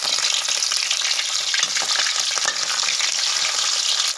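Mackerel fries in hot oil, a dense continuous close sizzle and crackle holding steady throughout and cutting off abruptly at the end, with no speech.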